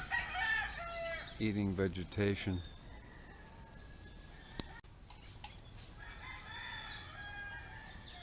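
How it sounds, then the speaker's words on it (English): Out in a farmyard on Camiguin Island where goats roam, a rooster lets out a loud, close crowing call, followed by quieter rustling and faint clucks, while people talk nearby. "Yeah, I guess that's a rooster."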